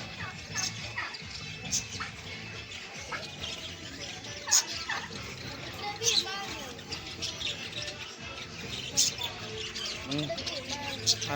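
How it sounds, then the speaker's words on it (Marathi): Sharp, scattered rosella parrot squawks and chirps ring out every few seconds over a steady murmur of voices and background bustle. "रोझेला पोपट"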